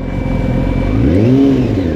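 A motorcycle engine revs up and falls back in one loud, close rise and fall, rumbling steadily for about two seconds with no voices.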